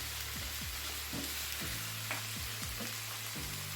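Thin-sliced beef strips with julienned vegetables and seasonings frying in a pan, a steady close sizzle punctuated by repeated scraping stirs, with no voices.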